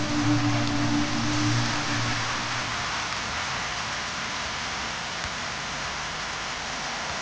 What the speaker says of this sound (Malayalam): എന്തൊരു മഴയാണ്.